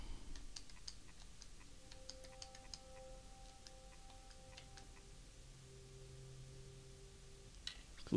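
Keyboard typing in the PS1 game Martian Gothic: Unification, a soft run of small clicks over a steady low hum and faint electronic tones, with no voices.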